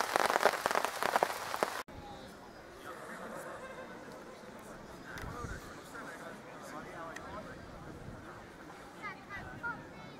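Rain patters softly and steadily on tarps at an outdoor camp gathering, a faint continuous hiss with scattered drips after a brief burst of louder sound at the start.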